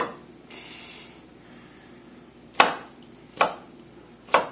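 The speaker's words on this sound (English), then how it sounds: "So the jalapenos, you just cut up into smaller pieces." A knife chops jalapenos into small pieces on a cutting board in a home kitchen; three sharp, close, separate chops land about a second apart after a quiet start.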